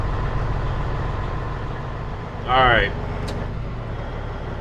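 A flatbed semi-truck engine idles with a steady low rumble while building air pressure, and a person speaks briefly over it.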